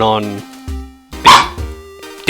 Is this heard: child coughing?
no